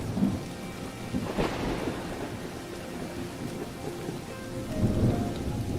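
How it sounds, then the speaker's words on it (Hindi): Thunderstorm in an animated Hindi moral story: a steady wash of heavy rain beating on surfaces, broken by a loud crack of thunder and low rumbles, with no voices. "हे भगवान, बारिश शुरू हो गई"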